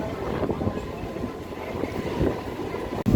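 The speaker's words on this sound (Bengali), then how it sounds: "শিয়ালদা যাওয়ার আমাদের এই ট্রেনটি কিন্তু এই মুহূর্তে পলতা স্টেশনে ঢুকছে" A local train from Krishnanagar City to Sealdah rolls into Palta station, a continuous low rumble of wheels and carriages with faint rhythmic rail clatter, close and loud, ending with a sharp knock.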